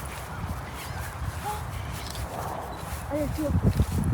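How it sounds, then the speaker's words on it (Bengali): Ducks give a few short nasal honking calls in a park, mid-distance and scattered across the stretch, with a louder one near the end. They are partly masked by background chatter and people talking nearby. "ওদিকে আরো হাঁস আছে"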